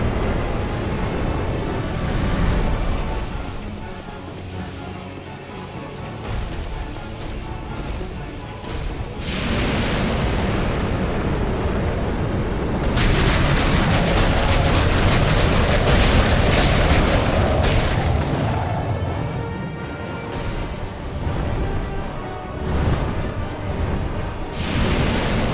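A boss's fire attack in Dark Souls 2, a sustained roar of booming, crackling explosions and flames that swells and fades over the whole stretch, dense and loud.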